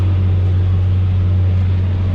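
Massey Ferguson 7495 tractor mowing hay in a field, a loud, steady low engine drone with a constant hum and no breaks or voices.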